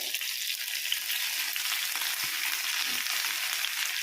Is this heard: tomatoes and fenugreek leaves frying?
yes